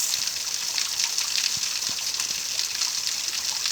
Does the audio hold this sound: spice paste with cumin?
no